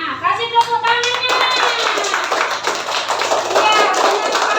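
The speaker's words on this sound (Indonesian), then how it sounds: "Nah, kasih tepuk tangannya." A classroom of children claps their hands together in a quick, loud burst of applause that runs continuously, with bright slapping taps over a short spoken voice at the start.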